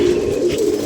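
Pigeons coo steadily in a low, continuous throaty murmur while grain is scattered for them, close and fairly loud, with no speech.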